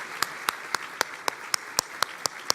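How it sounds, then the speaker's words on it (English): Crisp, evenly spaced hand claps, about eleven at a slow steady beat, from one nearby clapper rather than a full crowd, for the panelists at a symposium luncheon. "So please, a round of applause for our panelists."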